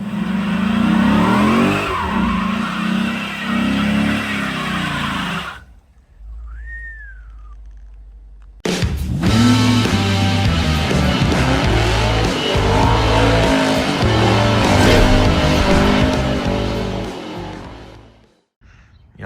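Chrysler 300 SRT8 doing a burnout: loud engine revving and roaring with squealing, spinning tires, a brief lull with a whistle-like tone, then the engine and tire squeal surge again close by before fading.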